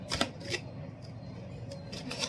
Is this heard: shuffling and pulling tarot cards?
yes